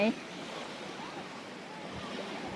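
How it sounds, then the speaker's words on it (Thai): Sea waves roll onto a Thai beach in a continuous broadband wash with a wind-like hiss, steady and fairly close, after a very brief voice at the start. "เห็นไหมคะเห็นทะเลไหม"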